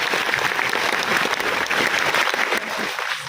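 An audience applauds for a speaker's parents at a Vestige event in Guwahati, dense sustained clapping from a crowd that tapers slightly at the end.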